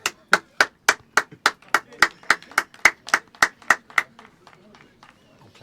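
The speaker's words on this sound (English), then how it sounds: "I'm clapping the band." A single person claps at a youth football match between Leverstock Green FC and Cockfosters Youth, about fifteen sharp, evenly spaced claps close to the mic that slow and fade toward the end, with faint talk behind.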